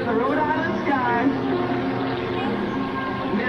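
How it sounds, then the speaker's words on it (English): A 300 horsepower Lycoming engine on an aerobatic airplane at an air national guard open house in Rhode Island, a loud continuous droning roar with shifting pitch, heard beneath a voice over a public address. "That 300 horsepower Lycoming engine pulls him skyward into the Rhode Island sky."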